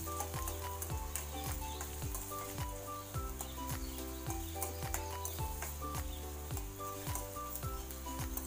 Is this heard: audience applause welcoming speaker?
no